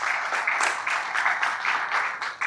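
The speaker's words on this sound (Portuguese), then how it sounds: "quero uma salva de palmas para todos vocês" Steady, full round of applause from an audience at a business seminar for transport entrepreneurs, dense clapping sustained throughout with slight swells.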